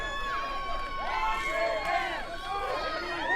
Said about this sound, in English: Whoever has the loudest cheering section could be the winner.